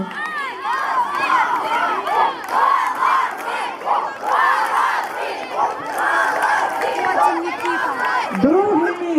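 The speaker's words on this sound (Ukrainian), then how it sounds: "Оплески шостому загону" A crowd of children shouts and cheers in loud, rhythmic surges for the sixth squad during a camp team game, voices chanting together in repeated waves with little sign of clapping.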